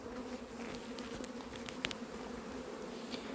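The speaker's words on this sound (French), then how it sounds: "il y a des abeilles qui volent autour des branches" Honeybees buzz steadily around a swarm hanging in branches, a dense continuous drone close by with a few louder individual passes.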